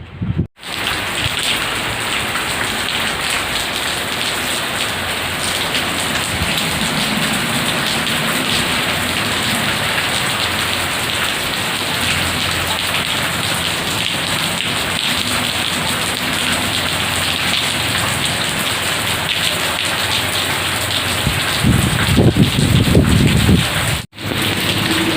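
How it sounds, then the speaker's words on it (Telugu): Heavy rain falls in a downpour as a loud, unbroken roar of water, with a brief low rumble toward the end and no talking. "ఫుల్లు వాన"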